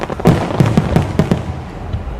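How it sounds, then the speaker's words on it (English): Fourth of July fireworks bursting at night, a rapid run of sharp booms and crackles clustered early, then fading into a distant rumbling wash, loud and without talk. "Alright, I see the pretty fireworks though"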